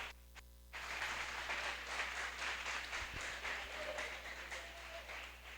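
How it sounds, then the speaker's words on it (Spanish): Congregation applause during a church seminar service, a steady broad wash of clapping that starts abruptly after a brief pause and carries on evenly throughout, with a low hum underneath. "El aplauso de gloria para el Señor."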